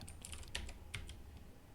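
Code is being typed on a computer keyboard in a short, quiet run of light clicking keystrokes with a few sharper taps. No one speaks.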